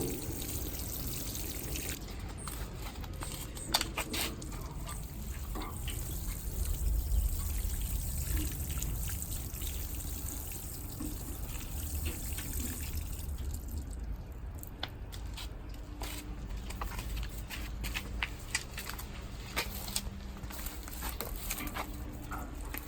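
Water is poured onto newly fertilized tomato, pepper, zucchini and basil plants in a garden. The soft pouring and trickling is faint and continuous, with occasional wet squishes as the soil soaks it up.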